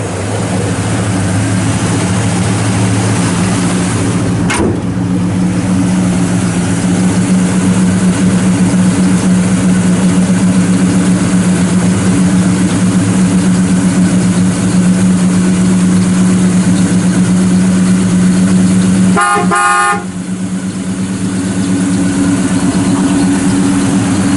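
Rebuilt engine of a 1972 Chevrolet Chevelle SS convertible with an electric choke and factory exhaust manifolds feeding dual exhausts, idling steadily with a loud, even low rumble and a short clattering interruption toward the end.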